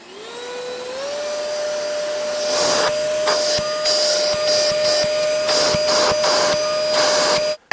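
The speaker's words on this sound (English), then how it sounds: "I don't think I'm going to use it as a Hoover because you use this to suck up the stuff" A handheld blower run in reverse as a vacuum gives a loud, continuous motor whine that climbs in pitch as it spins up, then holds steady, with rough rushing bursts of air and debris through the second half before it cuts off.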